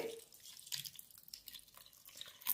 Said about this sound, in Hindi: तो यहाँ पे देखिए मैंने पानी ऐड कर दिया है